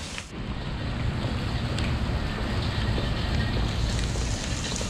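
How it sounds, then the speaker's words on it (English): Heavy rain pours down on a street in Charleston, South Carolina, near old market alleyways, a loud, steady broadband wash with wind buffeting the microphone and no speech. "I'm in the pouring down rain."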